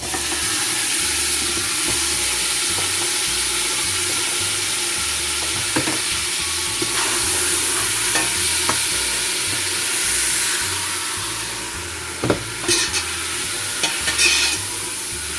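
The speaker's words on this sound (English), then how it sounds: "Just frying up the chicken a little bit." Chicken sizzles and fries in a soup pot with a constant hiss, and a few clattering stirs come near the end; no talking.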